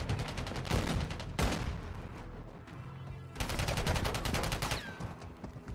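Gunfire from the mobile shooter Call of Duty: Warzone Mobile: repeated bursts of rapid automatic shots in two clusters with a brief lull between, loud and close, with no talk over them.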